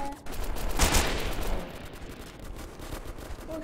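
Gunfire in the video game Delta Force: a burst of rapid shots in the first second, then a steady wash of background combat noise with scattered fainter pops, heard from the player's position with no voice over it.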